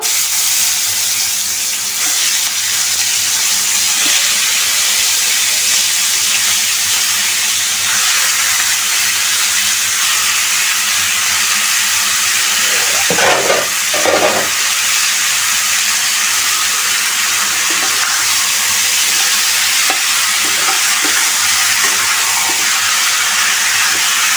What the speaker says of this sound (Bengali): এখন আমি এই মুরগির মাংসটা একটু হালকা ভাজা নিব।